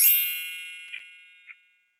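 A bright notification bell rings out in one clear ding that slowly decays, followed by two softer chimes, loud and isolated against silence.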